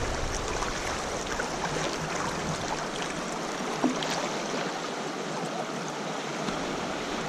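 On the Lower Salt River, the Snaggletooth rapid rushes over boulders with a constant, broadband roar of churning water, steady and fairly close, with no voices.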